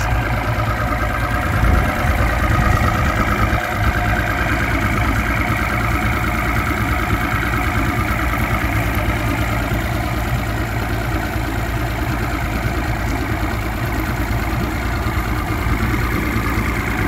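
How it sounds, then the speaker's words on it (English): A 1999–2000 Mercury 200hp OptiMax DFI oil-injected two-stroke outboard motor idles steadily throughout, a loud, close, low rumbling drone with a constant burbling pulse. "The motor's running damn good now."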